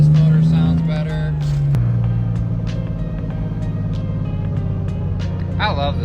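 A BMW E30 fitted with a swapped M50 engine drives in cold, snowy weather, its steady low engine drone running throughout and a gear change near two seconds, with someone talking over it.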